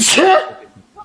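A single sharp, loud sneeze close by, followed by a brief trailing voiced sound.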